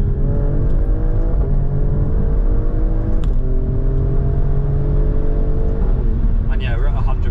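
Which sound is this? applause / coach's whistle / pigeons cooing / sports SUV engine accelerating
sports SUV engine accelerating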